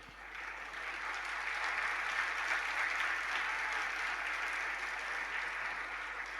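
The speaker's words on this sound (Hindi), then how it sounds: "जितनों की तालियां बज रही है, हम उसको अनुमोदना समझेंगे और संकल्प समझेंगे" Steady, dense applause from a congregation at a Jain sermon gathering in Chhatrapati Nagar, Indore, sustained evenly throughout at moderate distance with no talk over it.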